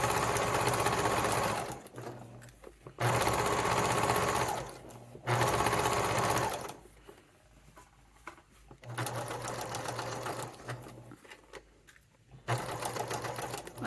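Sewing machine stitching a Christmas stocking, running in several loud bursts of steady whirring separated by brief pauses, with faint quiet handling between runs.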